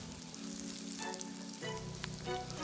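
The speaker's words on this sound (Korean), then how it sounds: "저는 해바라기씨 넣고 잘 볶겠습니다" Walnuts and sunflower seeds stir-frying with garlic in a pan give a soft, quiet sizzle with a couple of light stirring scrapes, and no speech.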